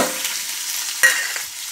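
Chopped onions and curry leaves frying in oil in a pan for a mixed vegetable curry, giving a steady close sizzle broken by a sharp scrape or clatter partway, with no voices.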